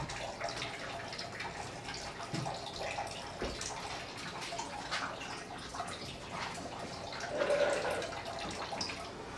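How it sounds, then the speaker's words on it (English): Water trickles and splashes steadily as it drains slowly from a large 1600-gallon tank system, a continuous close wash with a brief louder gush near the end. "water draining slowly onto this"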